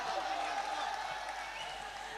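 Applause from a mushaira audience at a Bhiwandi poetry gathering, a steady, moderately distant wash of clapping that holds evenly for a couple of seconds without a clear break.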